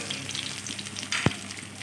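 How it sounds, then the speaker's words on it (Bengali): Raisins and cashews sizzle as they are stirred and fried in a pan for rice, a steady crackling frying sound with one sharp utensil knock near the end, no speech. "আরও কিছুক্ষণ নেড়ে চেড়ে নেব"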